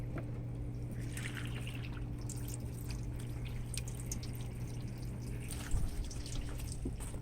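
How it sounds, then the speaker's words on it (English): Water poured over a Mercedes C300 car trickles and drips steadily onto its surface, faint and close, with a low steady hum underneath. "So let me pour more water on top here."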